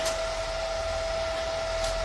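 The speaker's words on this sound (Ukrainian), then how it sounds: "Вентилятор дує як" A steady, even whoosh of a Telwin Force 165 welder's cooling fan blowing continuously with a constant hum, no voices.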